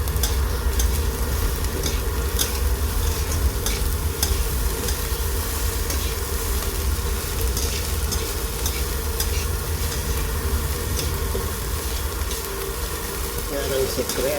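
Fried rice stirred in a hot pan gives a steady, loud sizzle with scraping and tossing that runs without a break, while a person talks over the cooking.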